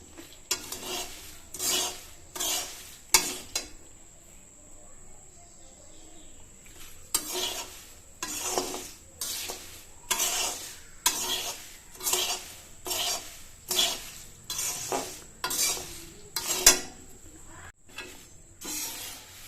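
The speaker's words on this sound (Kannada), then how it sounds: "ಪುರಿ ಸ್ವಲ್ಪ ಮಿಕ್ಸ್ ಮಾಡಿದರೆ ಸಾಕು ಸ್ವಲ್ಪ ಫ್ರೈ ಮಾಡಿದರೆ ಸಾಕು" Puffed rice for churumuri is stirred and lightly fried in a pan, giving a series of loud, rhythmic scraping and rustling strokes separated by short pauses, over a faint background whine.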